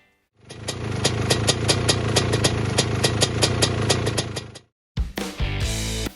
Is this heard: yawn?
no